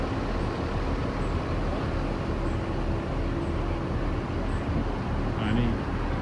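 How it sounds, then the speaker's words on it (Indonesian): Steady, smooth running hum of an electric SR2-bodied bus idling at a bus station in Palembang, continuous and fairly loud with a broadband rumble and no distinct pulses. "Suara mesinnya halus."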